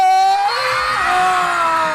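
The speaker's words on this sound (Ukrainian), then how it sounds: "Як тільки вони розріжуть, кричимо Ура!" Crowd at an outdoor ribbon-cutting ceremony shouting a loud, sustained cheer of hurray, many voices merging into one bright, continuous yell close by that runs for about two seconds.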